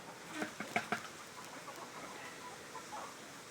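Chickens cluck softly at a distance, a few short clucks clustered early, then faint scattered calls against quiet outdoor background.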